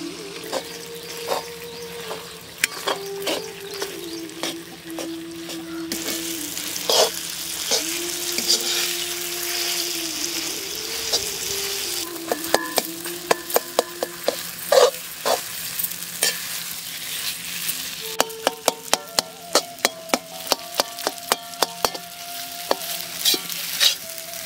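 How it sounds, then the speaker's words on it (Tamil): Rice flour batter poured into hot oil and stirred constantly to keep it from sticking, a continuous sizzle broken by many sharp scrapes and taps of the spoon against the pan, loud and close. "நம்ம கலக்கி வச்சிருந்த அரிசி மாவை இப்போ எண்ணெயில் சேர்த்துக்கலாம்"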